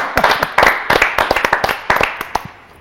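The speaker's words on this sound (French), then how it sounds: "on peut s'applaudir nous-mêmes" A small group of singers claps for themselves after a French Christmas song, the quick uneven hand claps starting and fading over a few seconds, close and fairly loud.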